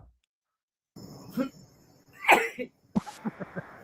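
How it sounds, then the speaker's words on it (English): A few short, rough coughs break out close by, followed by a quick run of small throaty bursts. "there's the coughing"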